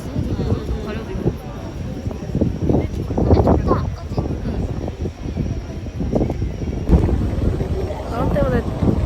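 Strong wind blows at Hong Kong harbour, buffeting the microphone with a constant low roar while people talk throughout.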